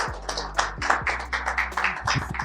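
Audience at a talk in Antofagasta applauding a speaker, a short burst of fairly sparse, uneven hand claps from a small crowd over a low room hum.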